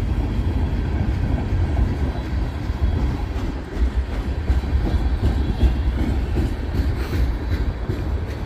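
A long intermodal freight train rolls past at close range, a continuous heavy rumble of wheels and railcars with steady clickety-clack rhythm throughout.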